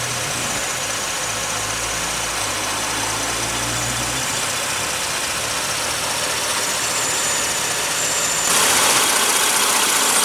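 A 2015 Cadillac XTS with a GM 3.6 liter V6 idles steadily after start up, a continuous low engine hum with a smooth, even tone and no voices.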